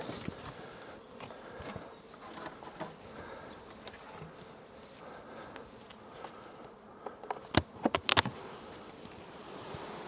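Buckfast bees hum around an opened hive outdoors, a faint, continuous buzzing drone with scattered soft knocks and a couple of sharper clicks near the end.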